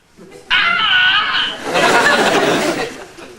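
A loud, sustained scream plays as the message-beep substitute on a comedy answering machine greeting, starting abruptly after a quiet moment and continuing for about three seconds, wavering and shrill.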